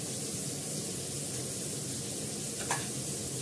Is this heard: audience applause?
no